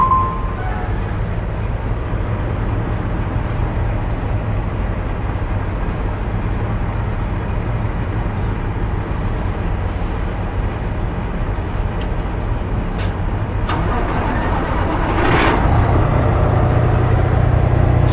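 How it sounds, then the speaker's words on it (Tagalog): A truck with airbag suspension idles steadily and loudly in a low, continuous rumble close by, and the engine tone deepens and grows slightly stronger near the end. "So paandarin na natin yung truck natin"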